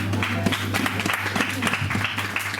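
A church congregation applauds at a thanksgiving service, a dense burst of clapping from many hands mixed with voices and a low steady hum, lasting a few seconds.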